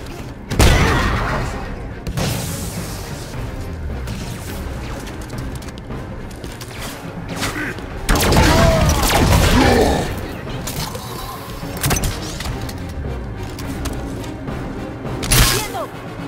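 Bursts of Halo 5: Guardians gunfire at a generator under a hangar and heavy booms hit at irregular intervals over a constant mechanical drone, with one loud crash in the middle.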